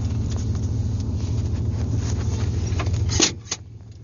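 Inside the cab of a 1995 Ford F250 with a 7.5L engine and a Flowmaster cat-back exhaust on 2.5-inch pipe, a low steady exhaust drone rumbles continuously with wind noise, then briefly drops near the end.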